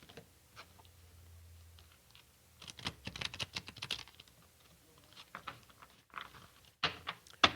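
Tarot cards being shuffled by hand, quick papery riffles and taps arriving in short bursts separated by quiet gaps, close and soft.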